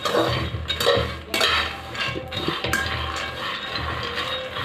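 Peanuts dry-roasting in a pan for peanut laddoos, heard as steady close scraping and stirring with a rattle of nuts against metal and occasional sharper knocks, with no talk.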